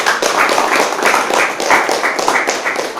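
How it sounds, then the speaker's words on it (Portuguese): A church congregation claps together in a steady, loud rhythmic beat, the palms striking in a repeating pattern throughout with a faint voice underneath. "Aplauda a Deus"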